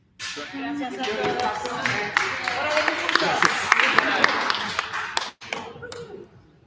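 Parents and attendees at an elementary school PTA meeting clap at close range, a crisp scattered round of handclaps that builds, holds, and stops abruptly, with a brief final flurry.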